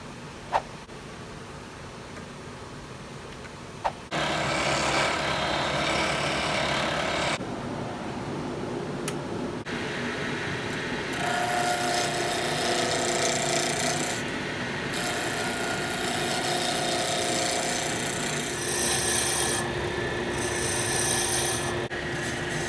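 A roughing gouge cuts a wooden pen blank spinning on a lathe mandrel, giving a loud continuous rasping scrape that starts after a few quiet seconds and shifts in tone as the cut changes.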